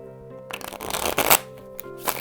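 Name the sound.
shuffling a deck of cards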